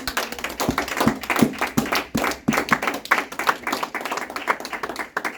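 A church congregation claps in acclamation of their king, a dense run of sharp, fairly even hand claps close by and moderately loud, with no talk over it.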